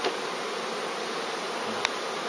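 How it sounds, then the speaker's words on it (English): Package bees fill a hive in Donegal with a dense, continuous buzzing close by, holding steady throughout with one brief click near the end. "God, there's so much bees in there."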